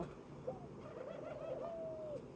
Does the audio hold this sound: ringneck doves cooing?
yes